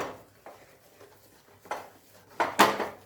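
A rice flour mixture is stirred in a pot held steady with tongs on a lit gas stove, giving a few faint, scattered metallic scrapes and clinks that grow slightly louder toward the end.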